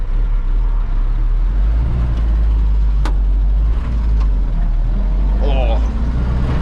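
An FSR Tarpan 237 driving in heavy traffic with almost no visibility: a loud, constant low engine and road rumble from inside the vehicle, with a few brief sharp clicks and faint chirps over it.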